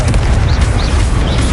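A Confringo blasting spell explodes in Hogwarts Legacy with a loud, sustained roaring blast and a heavy low rumble that fills the whole moment, with no talk.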